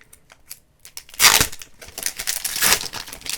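Crinkly tearing of a Pokémon Celebrations card pack's foil wrapper being ripped open by hand, a few soft rustles followed by a loud, sustained rip and crumpling close up.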